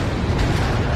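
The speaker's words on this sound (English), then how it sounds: "Firing rockets." Rockets fired from a warplane in a Pacific air-combat VR game, a dense, loud burst of rushing blast noise lasting about a second, close and alone.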